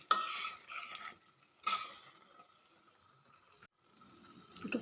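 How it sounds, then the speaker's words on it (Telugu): Bottle gourd curry being stirred in a pan, with bursts of scraping and clinking from the spoon separated by quieter stretches of soft cooking noise, close up and with no one speaking. "మధ్య మధ్యలో ఇట్లా కలుపుకుంటూ కొంచెం ఆయిల్ పైకి తేలేంత వరకు కలుపుకోవాలి"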